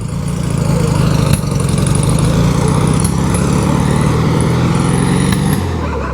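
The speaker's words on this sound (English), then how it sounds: "Backfiring a bit there" A cold 1970 VW Beetle engine runs at a steady, loud, rough idle, droning continuously close by, with a few sharp pops as it backfires and the revs dropping away near the end.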